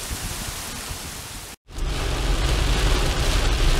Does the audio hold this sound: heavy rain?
yes